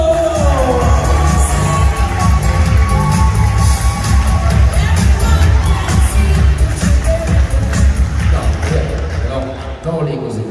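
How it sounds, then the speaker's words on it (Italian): An evening audience in Playa de las Américas, Tenerife, gives Fabio loud, dense applause and cheering that fills the whole stretch, with an announcer's voice over the crowd. "big applause for our Fabio!"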